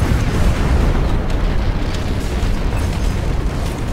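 Torpedo blasts in the space combat video game Strike Suit Zero roar as a continuous dense, loud rumbling explosion that fills the whole few seconds without a break.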